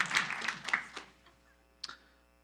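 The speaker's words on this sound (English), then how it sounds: "Let's give them a big round of applause and a thank you." Brief scattered applause at a city council regular meeting, a few quick claps fading within about a second, then a lone faint tap; quiet room tone otherwise.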